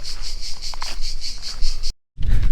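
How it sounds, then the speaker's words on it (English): Crickets chirp in a loud, steady pulsing chorus near a beach in Sardinia, Italy, with a brief gap of silence before rumbling wind or handling noise returns. "listen to the sound of all the crickets around us, it's crazy"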